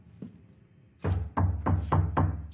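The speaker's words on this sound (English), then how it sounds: "Oh, we got a knock at the door." A door in a thriller film is knocked on: one firm thud followed by four loud, evenly spaced knocks, close and heavy, after a short quiet stretch.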